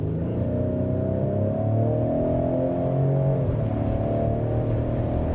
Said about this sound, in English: So I've just kicked us into sport mode. I'm gonna make the U-turn here and hit the gas a little bit.